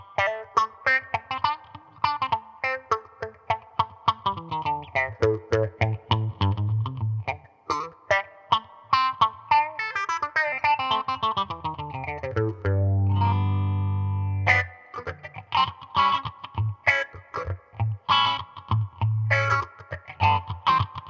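Guitar played through a Warm Audio Mutation Phasor II phaser pedal gives a funky, sweeping, swirling tone: choppy, rhythmic picked notes and chords with a low held note in the middle, moderately loud, no voices.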